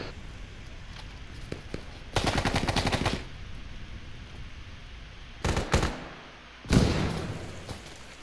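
Video game gunfire from a fight at Brigade Hill, arriving as separate loud bursts of automatic fire: one long volley, a short double burst, then a final heavy blast over quiet background.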